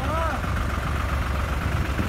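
A New Holland 3630 tractor rigged with a chisel plough idles with a steady low mid-range rumble, constant and moderately loud, someone speaking briefly over it.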